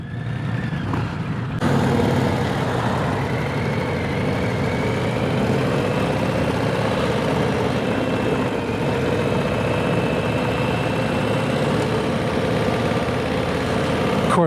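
A 2025 Harley-Davidson Low Rider ST High Output with its stock exhaust runs close by, a steady low engine rumble that holds at constant volume after a brief quieter start, with no talk over it.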